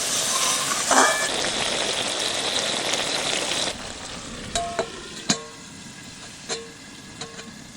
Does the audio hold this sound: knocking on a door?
no